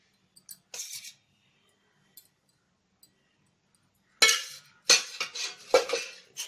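A spoon stirs oil in a cooking pan: a few sparse, faint clinks at first, then a run of loud, rapid scraping strokes against the metal near the end.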